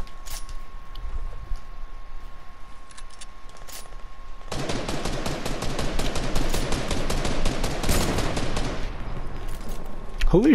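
Fortnite gunfire, a sustained rapid burst of automatic shots for several seconds, loud and fairly close, following quieter game ambience with a steady tone.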